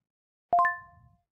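A text message notification chime in the game Seven Days: three quick rising bell-like tones that ring on and fade out, with a faint low rumble underneath, alone and fairly close.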